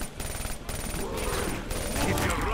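Rapid gunfire from a zombie shooter video game, a dense continuous stream of shots with a game soundtrack underneath, heard while a player talks over it.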